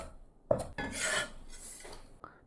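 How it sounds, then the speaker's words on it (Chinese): A knife cuts pickled bird's-eye chilies, giving a few quiet, separate strokes and rasping slides on the board, with short silences between them. "泡的小米辣，简单切两刀就可以"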